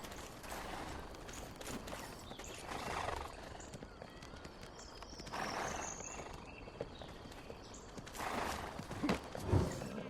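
Horses at a stable in the Black Desert Online video game, with a few whinnies and snorts rising over a steady bed of ambient noise and soft hoof movement, moderately close.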